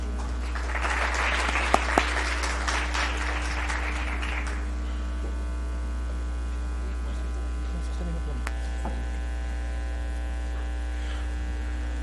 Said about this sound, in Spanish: La recibimos con fuertes aplausos.